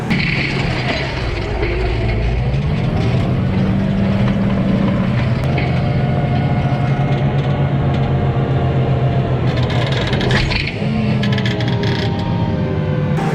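John Deere tractor grinding through hard-packed ground during harvest work: a loud, continuous engine drone with rumbling mechanical clatter and strain, close by, no talk.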